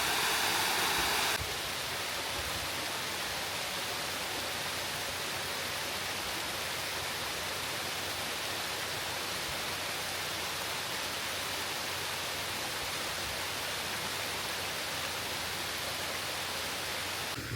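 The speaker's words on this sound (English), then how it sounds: "Look at the water just flowing right there. Here's another view of the waterfall." Man-made Seminole Falls at Rainbow Springs State Park pours as a steady, dense rush of falling water, continuous and fairly close, unchanged throughout with no voices.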